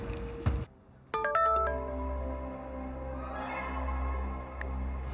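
A mobile phone rings through an unanswered call, sounding a melodic chime of stacked electronic tones that rings on steadily for several seconds, close and clear.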